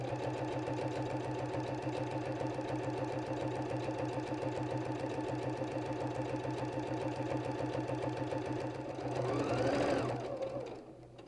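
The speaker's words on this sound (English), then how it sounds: "I'm going to be sewing a seam at the edge of the border where it meets that center panel." Sewing machine stitching a seam along the border of a table runner, a steady close rhythmic whir that runs alone for about nine seconds before a brief louder swell near the end.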